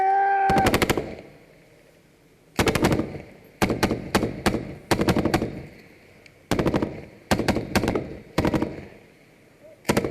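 Bursts of rapid automatic gunfire during a firefight against an enemy tree line, loud and close, arriving in quick rattling volleys of several shots each, separated by short gaps.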